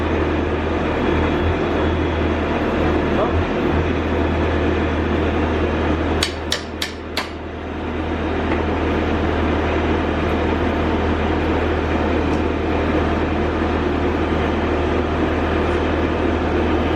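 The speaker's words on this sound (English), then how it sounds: "Let's try to maybe run the hydraulic." A Bobcat T650 skid steer idles steadily and close, its engine and hydraulics droning without a break, while a quick burst of four sharp metallic knocks cuts through midway.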